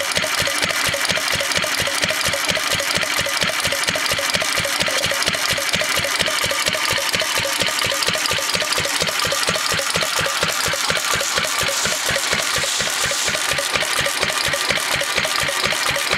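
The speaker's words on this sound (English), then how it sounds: "little Massey Harris, 4 horsepower, restored to very high standards. As you can see, pretty original and running very well." A restored vintage Massey Harris R30 4 horsepower stationary engine runs steadily, its rapid even firing beats loud and close, with no talk over it.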